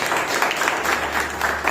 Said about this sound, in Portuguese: As palmas glorificam a Deus